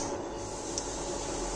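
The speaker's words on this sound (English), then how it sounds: "then in a mortar and pestle just smash it" Dry-roasted cinnamon stick and a clove are crushed and ground in a mortar and pestle, a close, continuous gritty rubbing and scraping with no voices.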